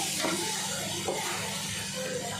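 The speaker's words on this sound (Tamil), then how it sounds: "அது எண்ணெயிலே போட்டு வதக்கிட்டிங்கன்னா அந்த கலர் வந்து மேலே வந்துடும்" Chili powder and masala fry in hot oil for a biryani: a continuous, close, hissing sizzle broken by occasional stirring scrapes.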